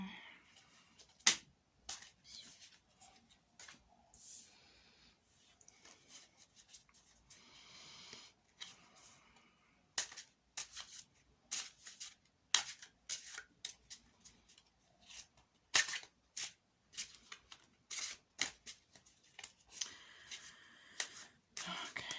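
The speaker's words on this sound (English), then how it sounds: "welcome to the pile 2 shuffling part" Tarot and oracle cards are shuffled by hand close to the microphone, sparse at first and then busier, with crisp slaps, riffles and flicking taps in quiet surroundings.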